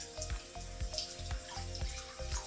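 A wig washed with shampoo in a sink, rhythmic wet squelching and splashing as it is worked back and forth in the water, close and fairly soft, with no voices.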